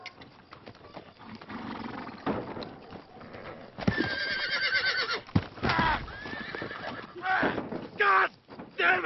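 A horse neighs and whinnies repeatedly in a Hollywood action adventure film, with clip-clopping hooves and stamping close by in loud, uneven bursts.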